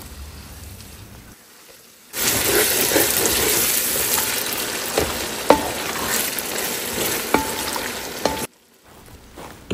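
Chopped tomatoes fry in a pan for chicken biryani, a loud steady sizzle that starts abruptly, runs for several seconds with occasional clicks of stirring, then cuts off.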